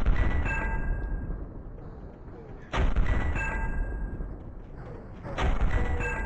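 Gunfire in a video game featuring tanks, with a few loud sharp shots or blasts spaced a couple of seconds apart over a rumbling background.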